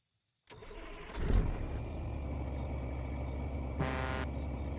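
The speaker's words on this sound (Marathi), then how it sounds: "गाडी चालू करूया." Truck engine in the mobile game Truck Simulator Big Rigs starting up: a sudden crank and surge, then a steady, deep, rumbling idle that continues to the end, with a brief hiss partway through.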